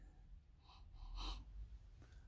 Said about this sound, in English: That's enough of the sniffing